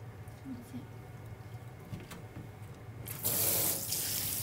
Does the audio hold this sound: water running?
yes